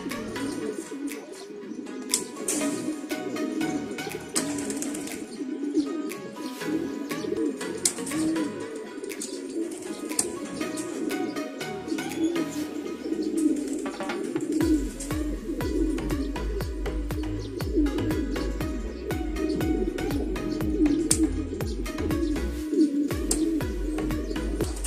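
Racing pigeons coo in a loft, with a steady dense murmur of many birds. Scattered chirps, wing flutters and low background hum run throughout with no talk.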